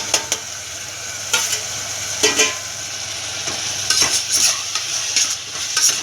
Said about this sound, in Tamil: மஞ்சள்தூள், மிளகாத்தூள், குழம்பு மிளகாத்தூள் இது அதில் கலந்து வேண்டுங்க